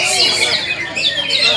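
Green leafbirds sing in quick, bright chirping phrases at a songbird contest, close and fairly loud over a busy background of crowd babble.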